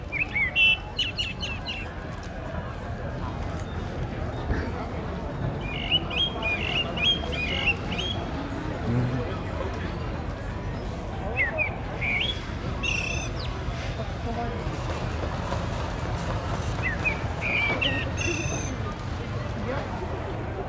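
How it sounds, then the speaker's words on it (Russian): A starling sings from a palm tree in Tenerife on Christmas Eve, its bursts of chirps, whistles and squawky notes recurring over a steady murmur of crowd and ambient noise, with people talking faintly in the background. "Сочельник Рождества, поет скворец на пальме."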